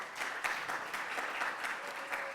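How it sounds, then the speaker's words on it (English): An audience at a business conference of a Ghana–Jamaica chamber of commerce applauds steadily, a dense wash of many hands clapping at moderate distance, with no speech over it. "I think he deserves a round of applause, please, David."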